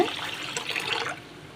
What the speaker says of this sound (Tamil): இதை தண்ணி ஊற்றி ரெண்டு மூணு தடவை நல்லா கழுவிடுங்க